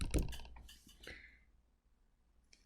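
A few quick computer mouse clicks while closing windows on a Windows 10 desktop: a short, close cluster of light taps at the start, then near silence before one final faint click.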